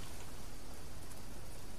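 A brief stretch of continuous rain shower in the jungle survival game Green Hell, a close, uniform wash of droplets hissing without pause and no talk.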